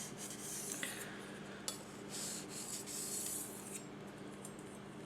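A knife blade sharpened on a Naniwa 8k Snow White whetstone, a few close, soft rasping strokes of steel sliding across the wet stone, each swipe a gentle hiss with small clicks between passes.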